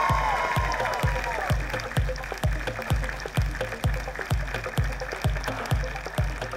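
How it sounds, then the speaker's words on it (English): Audience applause for a singer at a live awards ceremony, heard as sustained dense clapping from a large crowd, with a steady rhythmic thumping beat running underneath throughout. "give this gentleman a big round of applause"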